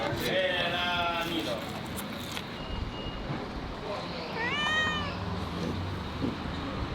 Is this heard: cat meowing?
yes